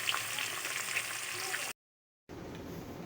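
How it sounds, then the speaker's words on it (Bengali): Vegetables frying in a pan, a soft continuous sizzle heard close but faint, cut by a short full silence before the frying noise resumes. "এগুলো ভেজে মশলা করে নিই, তরকারিটা বসিয়ে দেবো"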